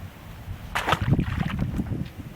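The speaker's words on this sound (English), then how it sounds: "It is just getting too windy." Gusty wind buffets the microphone in low rumbling bursts outdoors by the water at Prime Hook refuge, Delaware, in fall, with a brief rushing whoosh near the start; no talking.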